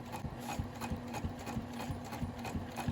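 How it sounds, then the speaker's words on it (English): A sewing machine top stitching a fabric bag at a long stitch length, a steady run of rhythmic mechanical thumps that repeat about twice a second, running close and alone with no talk. "If you go too fast on the top stitch, that's when I find I get skipped stitches."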